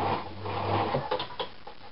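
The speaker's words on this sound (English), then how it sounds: "So it is a knotting stitch, which is 0 on your sewing machine." Sewing machine running a knotting stitch on fabric for a puff sleeve, a short quick whirring burst of needle strokes in the first second, then fainter mechanical clicks.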